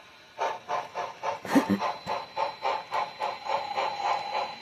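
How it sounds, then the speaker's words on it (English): A video game train chuffs rhythmically with regular puffs of steam and a brief hiss of air, steady and fairly close, moving off a switch at a freight depot. "First, we'll move the train off the switch"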